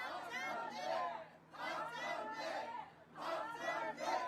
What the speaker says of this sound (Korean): 우리 다시 한번 박찬대를 3번 연호하겠습니다.